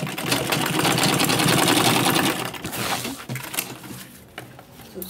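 A sewing machine runs fast stitching a zippered carry bag, a dense rapid mechanical patter for a couple of seconds that slows into uneven bursts and clicks before stopping, close and loud with no talk.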